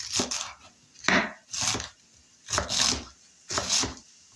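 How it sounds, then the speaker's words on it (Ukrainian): Bursts of quick knife chops finely shredding cabbage on a cutting board, four clusters of rapid strokes separated by short pauses, close and crisp. "будемо працювати з капусточкою. Нам потрібно її е, дрібненько насікти"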